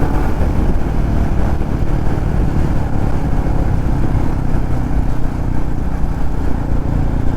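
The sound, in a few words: Royal Enfield motorcycle riding at speed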